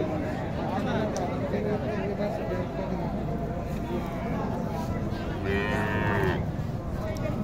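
A large dairy cow at a traditional cattle market lowers a long, loud moo close by, with people talking and market chatter around it.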